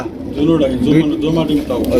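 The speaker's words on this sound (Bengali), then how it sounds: "এখানে রয়েছে চমৎকার এক জোড়া দেখার মতো ভাই আইস চেকার দামাসিন কবুতর" Low, throaty coos from a pair of ice checker Damascene pigeons repeat steadily for two seconds, close by, with a faint voice mixed in.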